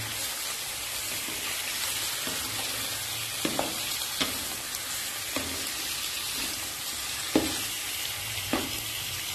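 Steady sizzling of chicken frying in a pan for a tomato chicken karahi, with occasional soft clicks and stirring knocks over the continuous crackle.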